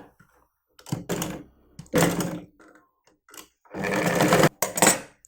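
A sewing machine stitches a long basting seam on a folded saree blouse sleeve, running in several short, close bursts separated by pauses.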